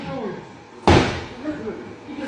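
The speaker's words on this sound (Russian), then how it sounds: "Давай я дверь разобью." Someone strikes a door hard during a confrontation in a confectionery shop, a single loud slam over agitated talk that comes before and after it.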